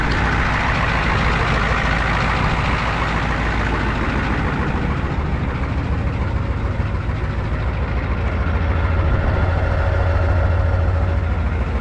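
A 1994 crew cab truck idles with its exhaust cut off, a loud, steady, rough engine drone with heavy low rumble that holds unbroken throughout.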